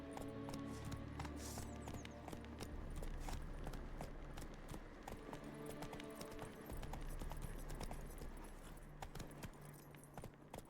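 Roach, Geralt's horse in The Witcher 3: Wild Hunt, gallops with steady rhythmic hoofbeats and jingling tack throughout, close and fairly loud over game ambience.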